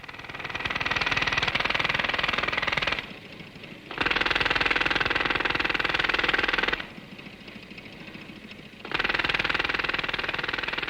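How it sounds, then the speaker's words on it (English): A tailboard-mounted air compressor on a Land Rover runs loudly, driving a pneumatic drill that hammers in long bursts of about three seconds and pauses between them, leaving the compressor's lower drone alone during the gaps. "Again tailboard mounted, this compressor is capable of 72 cubic feet of air a minute, enough to power a pneumatic drill."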